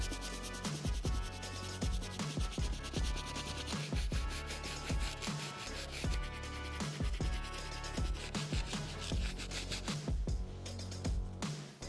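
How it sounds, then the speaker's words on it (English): Medium bristle brush scrubbing the midsole of a Brick by Brick Jordan 4 sneaker, close rhythmic scratchy strokes repeating steadily with short pauses between passes, no talking. "Next brush I'm going to be using is the medium bristle. The only part I'm going to be brushing is the midsole"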